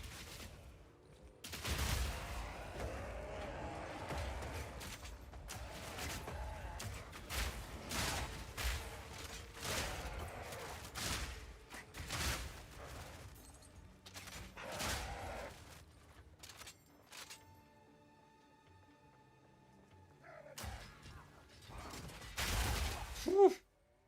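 Grenade mortar fire in the video game Path of Exile: a rapid series of explosive bursts and thumps, loud and close, with mechanical clicks and brief quieter gaps between volleys.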